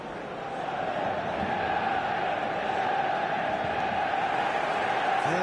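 A stadium crowd in the eFootball video game roars in a steady, dense wash of cheering and chanting before kickoff, loud and continuous, swelling slightly toward the end, with no other sound over it.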